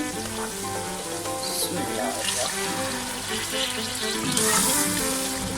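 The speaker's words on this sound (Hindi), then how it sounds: "अब मैं इसमें पानी ऐड करूंगी।" Water poured into a pan of browned potatoes on the stove for an aloo qeema dish, a steady hissing sizzle with splashing and bubbling, and someone speaking over it.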